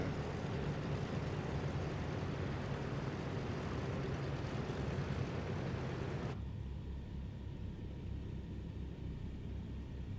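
Douglas DC-3 piston airliner engines droning as it lands at Heathrow, a steady broadband rumble that drops abruptly to a lower, quieter engine tone partway through, heard from inside, with no talking.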